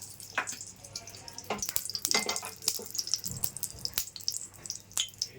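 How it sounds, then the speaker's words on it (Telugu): Cashew and almond pieces fry in hot ghee in a pan, giving a light, crackling sizzle with scattered pops and stirring clicks, close and steady throughout. "గిన్నె వేడెక్కిందండి నెయ్యి వేసుకుందాం జీడిపప్పు బాదం పప్పు ముక్కలు వేయించుకుందాం"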